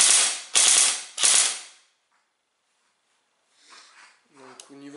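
An ASR 111 airsoft rifle fires three quick, sharp bursts of rattling shots that stop abruptly, followed by quiet and then faint handling clicks and a brief tonal mechanical sound.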